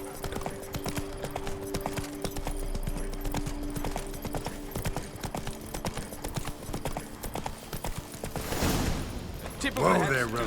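Geralt's horse Roach trotting in The Witcher 3, a steady rhythmic clip-clop of hooves on hard ground beneath spoken dialogue, ending in a louder burst of noise.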